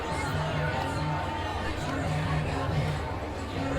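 Homecoming crowd in the stands at a Friday night high school varsity football game, Menomonee Falls versus Brookfield Central, a steady babble of many voices and general hubbub with no single sound standing out.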